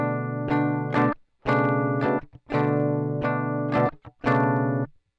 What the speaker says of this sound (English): You can hear I just get a little crackle when I play a little bit louder.